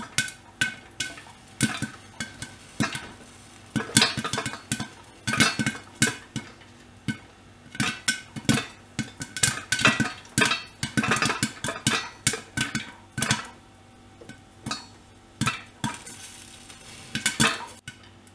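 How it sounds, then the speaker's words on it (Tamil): Rapid, irregular popping bursts inside a covered pan, dense and crackly over a low sizzle, continuing steadily without any talking. "இப்போ உள்ளே பொரியிற சவுண்ட் வந்து உங்களுக்கு நல்லா கேட்கும்."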